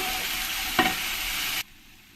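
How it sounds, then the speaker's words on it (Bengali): Ginger garlic paste fries with onions in a pan, giving a loud, dense sizzle with a single stirring scrape midway before the sound cuts off abruptly. "পেস্টটা দিয়ে ভালো করে আমি এই পেঁয়াজের সঙ্গে কষিয়ে নেব"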